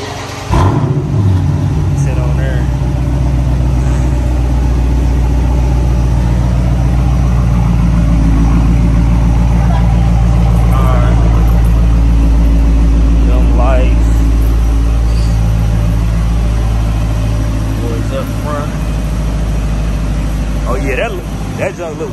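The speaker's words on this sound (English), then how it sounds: "cold start" A car engine cold-starts with a sharp crank and catch, then settles into a loud, deep, steady idle that rumbles on for about twenty seconds as someone talks briefly over it.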